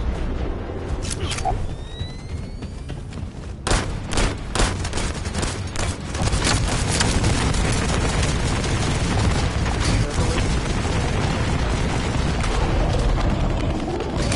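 Explosions and heavy gunfire from the shooter game The First Descendant, including a player's grenade, burst in sharp loud blasts and continue as a dense, roaring barrage with scattered impacts throughout.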